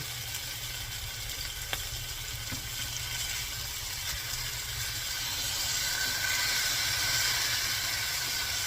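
Thick pieces of honey soy salmon sear on their sides in a hot pan, producing a steady, fairly loud sizzle and hiss that swells slightly toward the end, with no talking.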